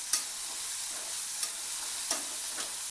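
Chopped tomato with a pinch of salt and turmeric sautés in a pan, a soft, even hiss of frying with a few brisk stirring scrapes near the start, middle and end.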